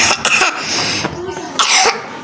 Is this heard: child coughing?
yes